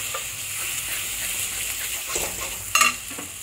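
Spice masala frying in oil for an egg curry while being stirred, a steady close sizzle with a few brief scraping knocks of the spatula near the end, no speech.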